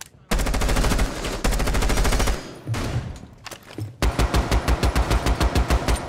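Automatic gunfire in the Rainbow Six Siege video game, loud and close: two long sustained bursts, a shorter softer stretch, then a run of evenly spaced rapid shots in a steady rhythm, with no talking.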